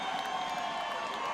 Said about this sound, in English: Catawba crowd energized on this 3rd down.